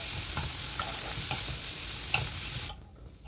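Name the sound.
frying onions and chopped beans in a pan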